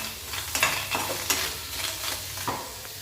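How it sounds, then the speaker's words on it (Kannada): Potatoes dry frying in a little oil with chilli powder sizzle softly in a pan, with several scraping stirs of a spatula coming through at uneven intervals, close and fairly quiet, with no talking. "ಚೂರು ಎಣ್ಣೆ ಹಾಕಿ ಡ್ರೈ ಫ್ರೈ ಮಾಡಿ ಖಾರದ ಪುಡಿ"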